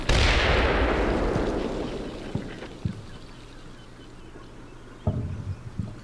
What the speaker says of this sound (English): Somebody fired a javelin there, I think.